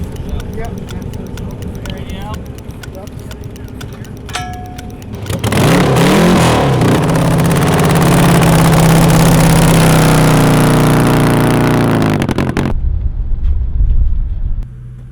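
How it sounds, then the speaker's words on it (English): A freshly rebuilt car engine, run after a blow-up, idles under talk, then roars hard at full throttle for about seven seconds before cutting off abruptly, with voices heard before and after. "They need to break in the engine. It's just been rebuilt after the blow up 3 weeks prior."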